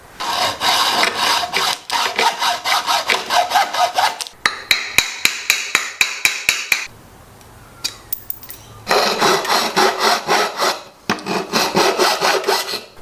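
A hand saw cuts a hole in a bicycle frame tube with close, loud rhythmic back-and-forth rasping strokes, pausing briefly between bursts of faster sawing.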